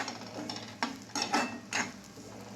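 Crumbled millet rotlo stirred in a pan: repeated scraping strokes and light clinks of a spoon against metal, roughly one every half second, close and moderately quiet over a faint sizzle.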